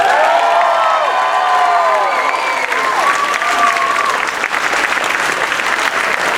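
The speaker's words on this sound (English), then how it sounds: "One more round of applause for our graduating fifth graders." A school audience at a graduation ceremony for fifth graders breaks into loud applause and cheering. Close, dense clapping runs throughout, with high whoops and children's shouts rising over it in the first half.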